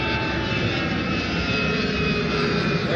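An Airbus A330 jet taxis at Honolulu airport toward the reef runway, a loud continuous engine roar and whine holding steady throughout, with no voices.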